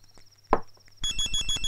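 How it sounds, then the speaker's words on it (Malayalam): A mobile phone rings indoors: after a quiet stretch and a single soft thump, a pulsing electronic ringtone starts and repeats in quick, even beats, fairly close and clear. "നിന്റെ ഫോൺ അടിക്കണേ."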